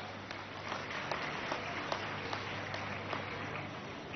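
Audience applause at a cultural festival ceremony in honour of a local political leader: an even, moderately distant patter of many hands clapping, steady throughout with a few louder claps popping out.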